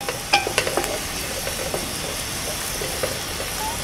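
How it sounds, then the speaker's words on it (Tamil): Onions sautéing in oil in a pan for Tamil eggplant kuzhambu curry, a steady soft sizzle and hiss running throughout, with a few light stirring clicks and scrapes near the start and end. "நல்லா கோல்டு ப்ரௌனில் வரணும். ஓகேவா? இல்லை வெங்காயமாக இருக்கும் குழம்பு. நல்லா வதங்கட்டும்."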